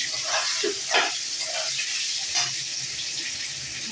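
Potatoes frying in hot oil in a pan give a steady close hiss and sizzle throughout, with a few brief louder spatters and crackles near the start and midway.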